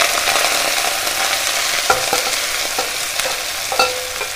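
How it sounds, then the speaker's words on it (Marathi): Elephant foot yam leaves hit hot oil seasoned with cumin, giving a steady sizzling fry with a few stirring scrapes in the pan. No one talks. "आता आपण ह्या तेलावरती आपली पालेभाजी आहे ती घालूया सुरणाची"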